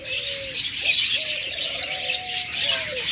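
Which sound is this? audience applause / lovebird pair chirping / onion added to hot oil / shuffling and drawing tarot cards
lovebird pair chirping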